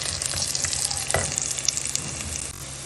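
Cashews fry in a pan for vegetable pulao. A steady, dense sizzle of hot oil runs throughout, and a brief scrape of stirring can be heard partway through.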